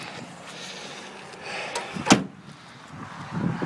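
A 1967 Pontiac's car door is worked, with soft rustling and creaks building to one solid, sharp thunk as it shuts, followed by quieter handling sounds.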